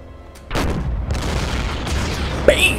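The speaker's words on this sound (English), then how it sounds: "Let's put some more high explosive in there." A high-explosive shell slams into a ship in Silent Hunter 4, a single heavy boom starting the burst and rumbling on, followed by a sharp metallic crack and ringing near the end.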